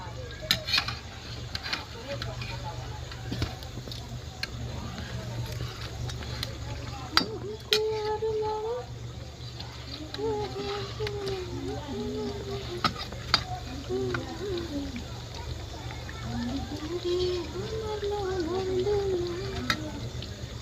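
Bread pakoras frying in hot oil in a kadhai, a steady low sizzle with occasional scraping clinks of a slotted spoon, while someone talks over it throughout.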